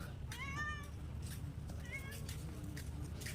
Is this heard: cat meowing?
yes